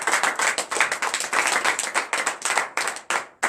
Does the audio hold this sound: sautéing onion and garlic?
no